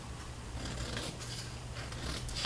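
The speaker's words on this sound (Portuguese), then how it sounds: "Eu vou cortar essa parte aqui. Então, gente, pega uma tesoura aí." Scissors cut through fabric for a waterproof toiletry pouch, giving close, crisp snipping and rasping blade strokes in a steady sequence with no talk.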